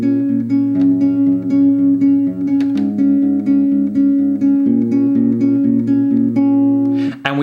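An electric guitar plays a song's riff alone. A steady picked figure repeats throughout on an open low string under higher melody notes, loud and close.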